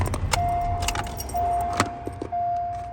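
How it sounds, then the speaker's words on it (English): A car being switched off with its keys, the keys jangling in the ignition over a steady electronic chime that cuts in and out. Close and fairly loud, with no talking. "Now I'm gonna turn the car off"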